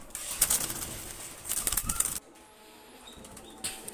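Pakistani highflyer pigeons flap their wings close by in two flurries of rapid fluttering, the second longer, before a quieter stretch with a brief faint rustle near the end.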